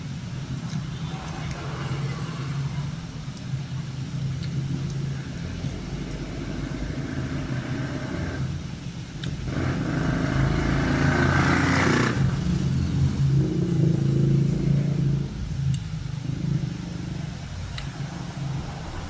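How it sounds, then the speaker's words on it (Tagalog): Cars, motorcycles and tricycles pass on a roadside tricycle route, their engines rumbling and swelling as a vehicle goes by near the middle. Traffic noise runs steadily throughout. "kaya maririnig niyo yung mga sasakyan"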